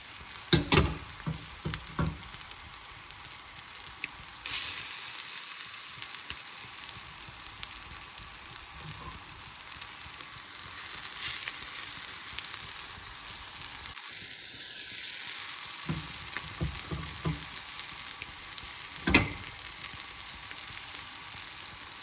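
Tilapia pieces sizzling steadily in a pan of spicy masala, a continuous close frying hiss with occasional pops and stirring scrapes, no talking.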